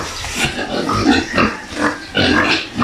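Pigs in a pen, due for cleaning and a wash, give a run of close, loud grunts and squeals in short bursts about every half second, with no talk.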